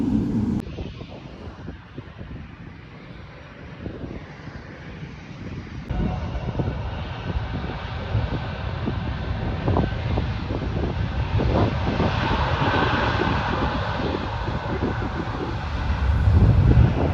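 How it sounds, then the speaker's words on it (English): A Boeing 777 airliner lands at Prague airport, a broad distant jet roar that swells steadily over several seconds amid outdoor wind buffeting. "So when the 777 finally landed"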